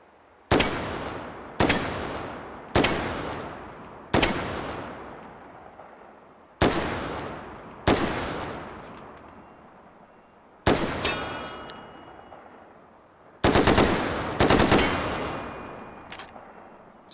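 Loud single rifle shots from an AR-10 fired in the VR shooting game H3VR, eight sharp reports spaced irregularly with ringing decays, the last two in quick succession.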